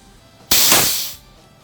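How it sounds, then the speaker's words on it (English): A single sharp burst of compressed air vents from the tank valve of an FX Cyclone air rifle, a loud hiss lasting under a second that fades out, set against a quiet background. "Pushing down, it will discharge the air."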